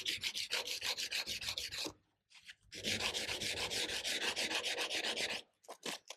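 Knife blade being hand-sanded with 120 grit sandpaper, a close, loud rhythmic back-and-forth rubbing in steady strokes, pausing briefly twice before resuming.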